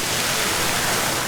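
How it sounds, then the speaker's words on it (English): Steady rushing and splashing of water from pools and fountains in Celestial Park at Epic Universe theme park, a continuous broadband wash heard close and fairly loud with no voices over it. "These are some of the different pools of water behind us."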